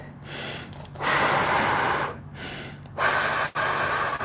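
Heavy breathing during a side-split stretch, with three long forceful exhalations separated by short quiet inhales, close and breathy, with no talking.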